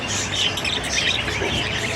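Young hand-reared birds chirp and squawk in a continuous, fairly close chorus of high, rapid calls, with no talking.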